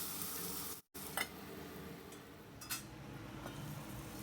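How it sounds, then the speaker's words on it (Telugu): Onions fry in a pan with a soft, continuous sizzle, broken by a brief gap and a few faint clinks as they are stirred. "ఆనియన్స్ బాగా వేయించుకుందాము"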